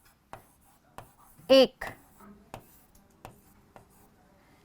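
A teacher writes on a board in a quiet classroom: a series of short, sharp taps and scratches spaced about a second apart, with a brief spoken word in the middle.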